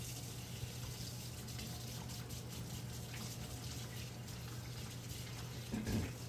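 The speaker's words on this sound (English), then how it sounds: "give my hands a quick wash" Tap water runs steadily into a sink while hands are washed in a home kitchen, a constant close splashing stream with a low hum beneath, slightly louder near the end.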